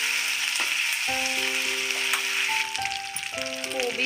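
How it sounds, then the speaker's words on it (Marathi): Green chilli, garlic and ginger paste frying in a pan, a steady hiss of sizzling oil heard close, with a sustained melodic tone playing over it. "हे हिरवी मिरची लसूण अद्रकची पेस्ट आहे ती थोडीशी टाकते थोडं लाल होईपर्यंत फ्राय करून घ्यायचं"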